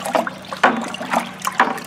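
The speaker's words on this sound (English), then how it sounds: "We're going to transfer it to our pouring can and then start spreading it out." Concrete color restoration liquid being poured into a pouring can, coming in several gurgling, splashing bursts of pouring close by.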